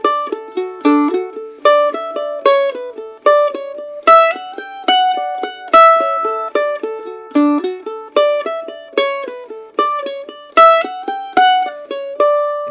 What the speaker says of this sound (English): So with Father O'Flynn,